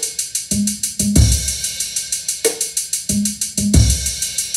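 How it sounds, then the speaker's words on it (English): Halftime drum groove for music production, snare landing only on beat 3: steady hi-hat or cymbal pulses over kick thumps, with a sharp snare crack once per bar, loud and alone without talk. "our halftime groove with the snare drum just on beat 3"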